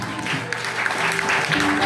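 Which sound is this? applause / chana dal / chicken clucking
applause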